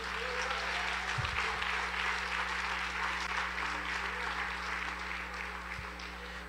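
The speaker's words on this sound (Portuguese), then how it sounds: "Uma salva de palmas ao Senhor," Church congregation applauding during a service, sustained steady clapping from many hands over a low electrical hum, fairly distant and even throughout.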